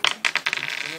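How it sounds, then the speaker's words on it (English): Dice rolled at a trading card game event tumble and clatter across a hard surface in a quick burst of bright rattling hits, settling within about a second, close and fairly loud with no talk. "is going to roll the dice"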